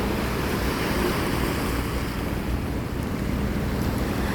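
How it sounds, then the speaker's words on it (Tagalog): Ocean waves roll and wash continuously, mixed with wind buffeting the microphone. "hihilahin ka ng alon pabalik dun sa ilalim"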